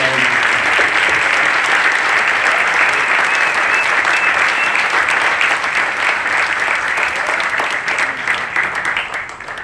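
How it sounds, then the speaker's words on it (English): Large outdoor audience applauding after a Ranger School light infantry squad demonstration, dense loud sustained clapping that holds steady and then begins to taper. "Let's get a round of applause for the nine-man."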